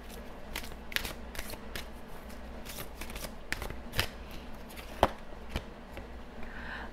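Oracle cards being shuffled for a reading make soft, close, repeated riffling and slapping sounds in quick irregular bursts, with no talking.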